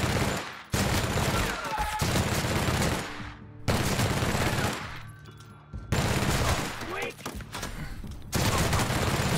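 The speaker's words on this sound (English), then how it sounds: "We'll get a sneak shot off on him." Gunfire in The Outer Worlds as a sneak shot hits a marauder, with repeated loud bursts of shots separated by brief gaps and a voice talking over the action.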